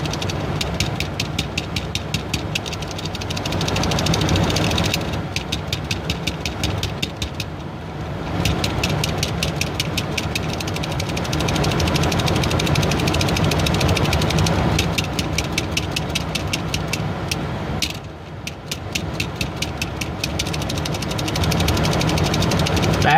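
A Stomper 4x4 toy truck's small motor and gears whir steadily and close up for the whole stretch, with a fast ticking chatter on top that breaks off briefly a few times.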